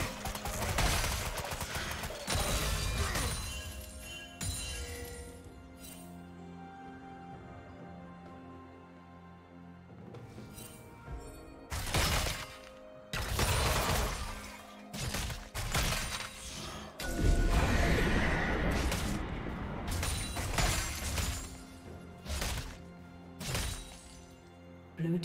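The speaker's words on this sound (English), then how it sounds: "Blue team's turret has been destroyed." A turret being destroyed in a League of Legends match, heard as a chaotic stretch of blasts, crashes and shattering impacts over layered game music and effects, loud and dense with brief lulls.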